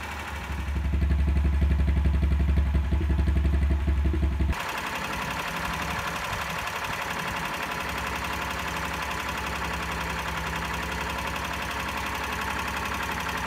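A small 420cc motorcycle engine with Speeduino fuel injection idles steadily with a rapid, even putter; it runs louder at first, then settles into a quieter, continuous idle.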